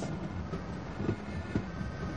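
A train rolling along rails in the Half-Life video game, a continuous low rumble with periodic clickety-clack wheel thumps at regular intervals, moderately quiet with no voices.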